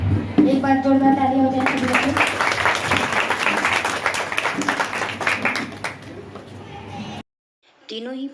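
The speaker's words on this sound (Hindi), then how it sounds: "एक बार जोरदार ताली हो जाए सभी लोगों की।" Audience at a Sanskrit competition claps in loud, sustained applause that gradually thins out, with a voice speaking over the start and a brief silence before talk resumes.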